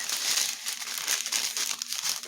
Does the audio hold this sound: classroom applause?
no